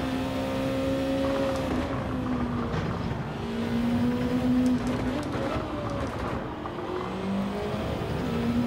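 Race car engine in Gran Turismo 7, a daily race at Suzuka played in PSVR2, drones steadily at high revs with shifting pitch as the car holds position with a rival close behind; continuous and loud throughout.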